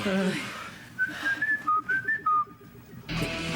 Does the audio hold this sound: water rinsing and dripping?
no